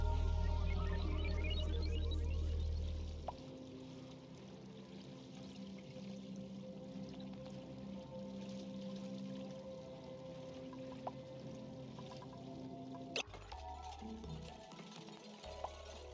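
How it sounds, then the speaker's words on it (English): Water geyser in the game Oxygen Not Included gushing steadily, a loud low rush at the start that settles into a continuous pouring stream, with a brief burst of louder sound near the end. "I also open up the water geyser so we can start filling it with water and steam."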